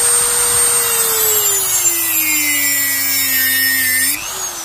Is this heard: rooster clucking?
no